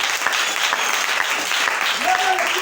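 Church congregation applauding and cheering together, a steady, loud wash of clapping that fills the space continuously throughout.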